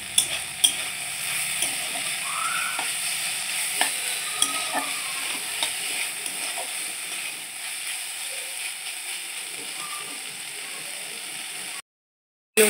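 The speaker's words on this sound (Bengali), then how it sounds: "দিয়ে এইভাবে নেড়ে চেড়ে ভেজে নেব" Ivy gourd greens frying with mustard paste, turmeric and chilli powder are stirred in a pan, giving a steady close sizzle broken by repeated scraping and clinking strokes of a utensil, with a short silence near the end.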